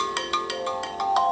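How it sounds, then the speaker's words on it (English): An iOS 7 ringtone plays on an iPhone 5. It is a bright, repeating electronic pattern of short, evenly spaced chiming pulses, loud and clean with nothing else audible. "I've went through the different iOS ringtones and stuff,"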